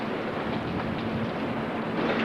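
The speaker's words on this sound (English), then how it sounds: "I hear another gust coming." A loud, continuous roar of hurricane wind gusting during Hurricane Georges buffets the microphone, steady and dense throughout with no voices.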